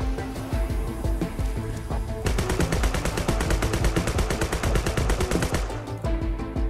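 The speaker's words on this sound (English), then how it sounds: "We just shot them all, man." Gunfire in the ninja video game Sword With Sauce, scattered shots followed by a long rapid automatic burst of evenly spaced loud reports, then a brief pause and a few more shots.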